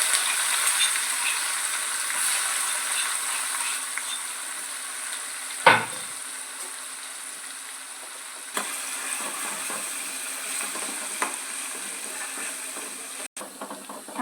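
Crushed garlic and cumin fry in hot oil for a brinjal paste, giving a steady close bright sizzle and hiss throughout, broken by a few soft stirring scrapes and one sharp clack, with no voices.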